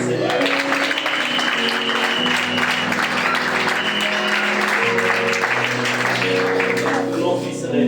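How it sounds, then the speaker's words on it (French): A church congregation applauding and acclaiming in worship, dense continuous clapping mixed with sustained voices and music throughout. "On acclame le Seigneur."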